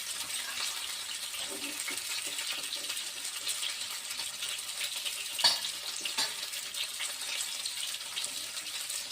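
Bitter gourd pieces fry in a pan with a steady, broad sizzle throughout, plus a brief louder scrape or stir midway; no talk.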